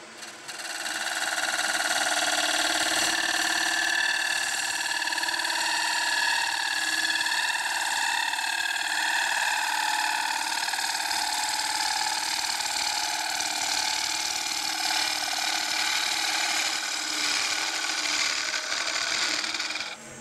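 Bowl gouge cutting a spinning wooden bowl on a lathe, a steady close hiss and rasping shear with a faint motor hum underneath, sustained for about twenty seconds without talk.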